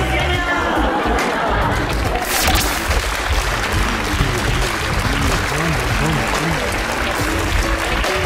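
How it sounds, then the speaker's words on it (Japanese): A crowd at a school assembly claps along in a steady rhythm with chatter and voices mixed in, loud and continuous throughout. "手拍子急に止めさせて"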